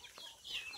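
Soft, distant clucking from a few native chickens on a farm, brief and faint against a quiet outdoor background.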